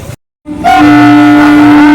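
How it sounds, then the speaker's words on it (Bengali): At a closed level crossing, a very loud, sustained train horn blares nearby right after a brief silence and holds steadily to the end. "এদিকে গেট পড়েছে ট্রেন যাচ্ছে"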